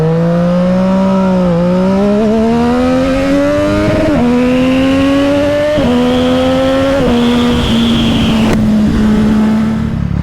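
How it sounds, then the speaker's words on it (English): A motorcycle engine revs hard and pulls away, climbing in pitch through several gear changes. It is loud and close throughout, with no speech. "Step number 4, turn the motorcycle on. Step number 5, full send."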